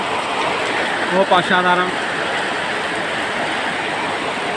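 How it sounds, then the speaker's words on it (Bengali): Heavy midday rain pours down in a village, a dense, loud, steady hiss filling the whole stretch, with someone briefly speaking over it. "খুব অজোরে বৃষ্টি হচ্ছে আজকে"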